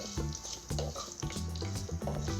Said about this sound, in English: Fry till the garlic turns slightly brown.